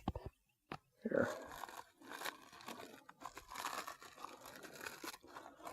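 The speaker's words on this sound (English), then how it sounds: "I'm just going to crumple it up here" Stickers are crumpled by hand in leather gloves, giving close crinkling and crunching bursts that start and stop irregularly, with some faint rustling between them.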